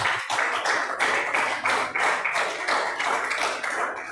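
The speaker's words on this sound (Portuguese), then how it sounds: "Pode bater as palmas bem forte para o Senhor Jesus." A church congregation claps hands together in a steady rhythmic beat, about three claps per second, loud and sustained through the short stretch.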